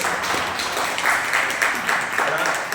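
Rotary club members at a weekly meeting in Nagercoil give a round of applause, a dense steady patter of many hands clapping together, with a voice faintly mixed in.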